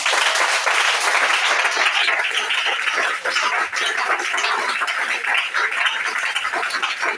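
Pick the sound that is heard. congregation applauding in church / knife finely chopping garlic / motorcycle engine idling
congregation applauding in church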